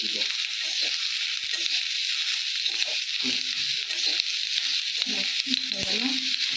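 Onions frying in a pan with a steady bright sizzle, close and continuous, with occasional stirring clinks and faint voices in the background.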